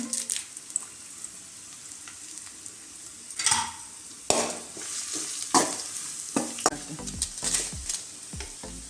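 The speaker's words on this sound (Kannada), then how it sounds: "ಇಂಚಿ ಲವಂಗ ಏಲಕ್ಕಿ ಮೆಣಸಂತ ಫ್ರೈ ಆಗೋದು" Onion, ginger, cloves, cardamom and pepper fry in oil for a chicken and potato curry, a close, lively sizzle interrupted by repeated louder stirring scrapes and bursts of spitting from the pan, with no talking.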